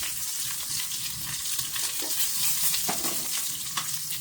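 Dried red chilies and green chilies with mustard seeds frying in hot oil, giving a steady, close sizzle with occasional pops and crackles throughout.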